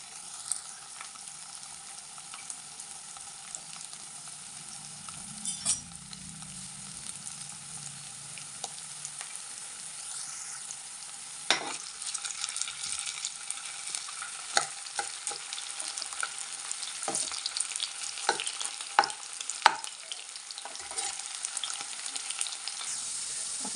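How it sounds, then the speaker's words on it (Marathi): Potatoes fry in oil in a pan for Baglani-style poha, giving a continuous soft sizzle. A spatula scrapes and taps repeatedly, more busily in the second half, and no one speaks. "तर सगळ्यात आधी आपण इथे बटाटे टाकणार आहोत आणि बटाटे छान असे शिजवून घेणार आहोत"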